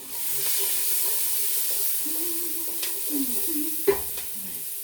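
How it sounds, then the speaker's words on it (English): Onions sizzle and hiss as they fry in butter for a budget tomato chutney, with soft spoon scrapes as they are stirred and a sharper clack near the end. No one speaks. "The onions in. Stir it."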